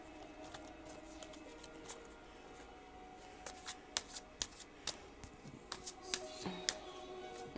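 Tarot cards shuffled by hand close by, a soft papery riffle building into a run of quick, sharp flicks and taps near the end, quiet and with no voices.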